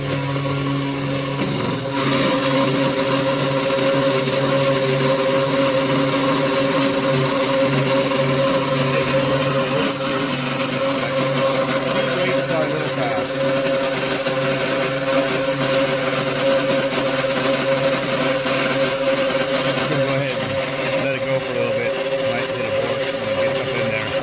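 A 3018 Pro CNC machine milling a PC board in a single pass, its steady motor whine and cutting noise running continuously and fairly loud for the whole stretch, with no talking.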